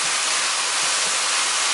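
Meat and vegetables for a pasta bolognese steam and sizzle in a hot pan, a loud, even hiss that runs unbroken from start to finish.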